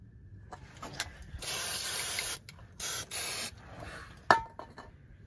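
Bursts of Fluid Film undercoating hissing from an aerosol can as it is sprayed under a car, two long sprays and several short ones, followed by a sharp tap.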